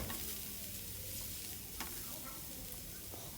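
Onions fry quietly in a pan, a soft even sizzle with a couple of faint stirring taps.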